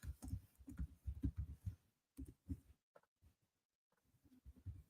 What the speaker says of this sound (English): I'm typing this as I go